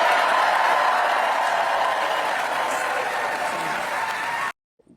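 A crowd at a campaign rally applauds steadily and loudly, a dense continuous wash of clapping that cuts off abruptly near the end.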